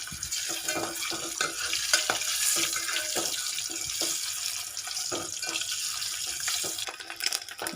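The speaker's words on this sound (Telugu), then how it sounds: "ఇప్పుడు ఎగ్స్ వేసుకోవాలి ఇప్పుడు వీటిని గోల్డెన్ కలర్ వచ్చే వరకు వేసుకోవాలి" Eggs frying in a pan seasoned with turmeric and salt, a steady close sizzle with scattered crackles and light clinks from stirring throughout, no talking.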